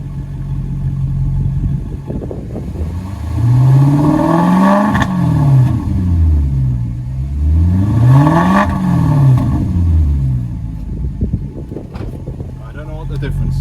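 A Maserati GranTurismo 4.2 V8 revs twice from about 1,000 to 3,000 rpm through a cut-open, modified exhaust with its valves shut, each rise loud and rasping before settling back to a steady idle rumble.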